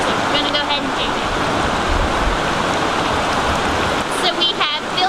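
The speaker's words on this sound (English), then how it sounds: "you're going to want to pump through 1 bottle of water" Water is pumped and squeezed through a Hydroblu Versa Flow filter into a bottle, making a steady, loud rushing and splashing stream close by with no pause throughout.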